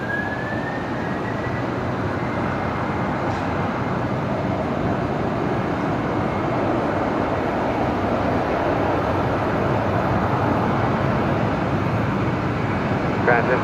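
A Qantas aircraft at Brisbane Airport at twilight, a loud continuous broadband jet engine roar, with a thin tone sweeping at the start.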